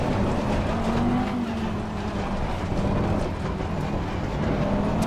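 Audi GT3 race car at full throttle through fast corners at Spa in Assetto Corsa Competizione, a steady, loud engine drone with a rising and falling pitch that holds on without a break.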